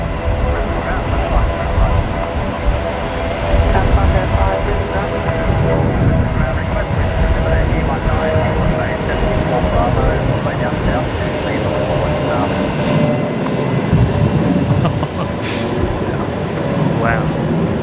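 A Velocity airliner departs Brisbane Airport with a steady, broad engine roar that holds at a constant, fairly loud level throughout, with no gaps.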